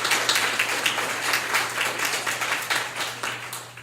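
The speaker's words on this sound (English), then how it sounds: "So we should applaud all of them." Audience applause at an International Women's Day library event, a dense, steady wash of many people clapping at moderate distance, continuing evenly for a few seconds with a faint hum beneath.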